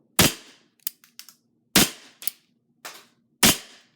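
An airsoft gun fires 0.2 g plastic BBs at paper at point-blank range, four sharp loud snapping shots spaced about a second and a half apart, with lighter clicks of cocking and handling between them.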